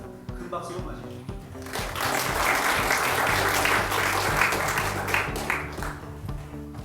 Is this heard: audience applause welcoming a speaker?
yes